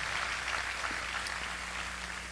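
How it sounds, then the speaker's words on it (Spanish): A church congregation applauds in a steady, full wash of clapping that holds at an even level throughout, with no speech over it. "Denle un aplauso al Señor."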